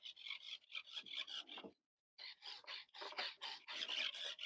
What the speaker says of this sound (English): You can hear the servo.